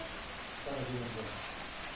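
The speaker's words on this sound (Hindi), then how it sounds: "कितनी तेज बारिश आ रही है।" Heavy rain pours down at night with a dense, steady hiss, while a voice briefly speaks underneath partway through.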